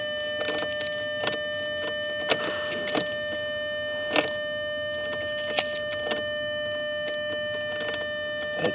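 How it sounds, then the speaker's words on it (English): A 2002 VW Passat's warning chime dings repeatedly with the ignition key removed, a steady string of short, even-spaced bright tones close to the microphone with no talking. "That dinging is annoying."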